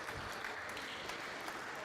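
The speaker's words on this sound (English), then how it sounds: "A little trickle of applause." Scattered light applause from the crowd at a glass-court squash championship, a faint, even patter of clapping throughout.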